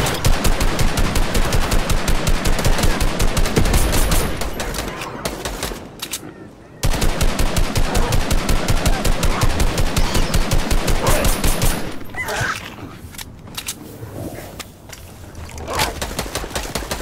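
Rapid automatic gunfire from a Fortnite match rattles in long, dense, loud bursts, with a few short pauses and quieter stretches between volleys.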